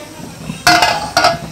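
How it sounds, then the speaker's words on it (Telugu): Two short metallic clinks close by, like a pot lid being lifted and set against the rim, over a quiet kitchen background while a farm chicken curry cooks. "మూత తీసి చూద్దాం"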